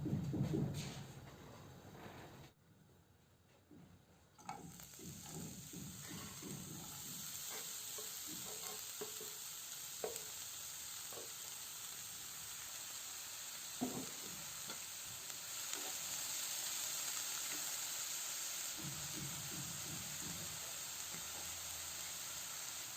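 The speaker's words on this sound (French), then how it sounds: "je vais les faire revenir dans cette poêle dans laquelle je vais ajouter un peu d'huile" Vermicelli fritter filling frying in oil in a skillet, a steady hiss of sizzling that grows fuller after a brief quieter moment, with occasional soft scrapes of stirring, close and continuous.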